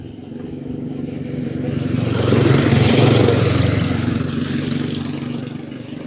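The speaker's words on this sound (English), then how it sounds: "Oh, big bikes come in." Large motorcycles approach and pass on a former railway cycle path, an engine drone swelling to a loud peak midway and then fading as they move off.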